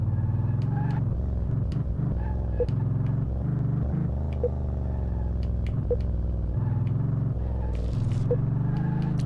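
Car engine in Car Mechanic Simulator drives around the test track, a steady mid-loud motor drone with shifting revs and occasional clicks throughout.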